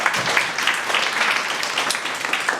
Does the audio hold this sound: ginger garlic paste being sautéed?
no